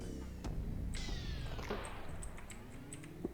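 A cat meows in the game Deadbolt, with a couple of drawn-out calls over dense game music and ambience, moderately loud, and no talking.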